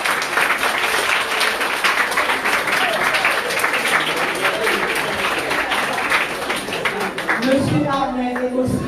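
An audience at a republican ceremony at a French collège (middle school) gives sustained, loud applause with dense steady clapping throughout, while a voice speaks near the end.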